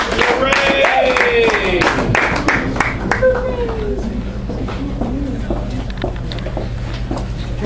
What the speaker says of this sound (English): you're going to keep clapping for our next poet, Jessica.